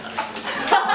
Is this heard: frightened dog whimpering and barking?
yes